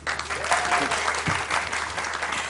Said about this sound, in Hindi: लेडीज एंड जेंटलमैन, बहुत सी तालियां साहिर के लिए।